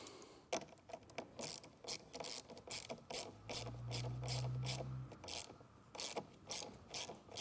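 A nut on a stud being tightened down over a wire ring terminal during a trailer brake controller installation, heard as quiet rapid ratchet clicks in bursts, with a short low whir in the middle.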